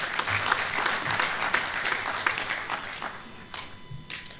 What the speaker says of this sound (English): a round of applause before he is introduced